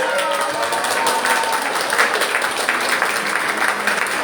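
A church congregation claps together in a dense, continuous burst of applause that holds steady at moderate loudness for several seconds.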